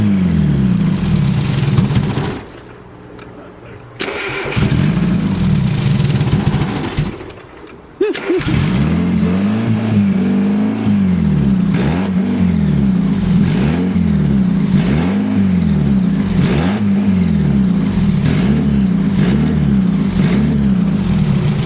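A Miata-engined kart revs unevenly, the throttle rising and falling in a regular surging rhythm after two brief dips, loud and close with no talk.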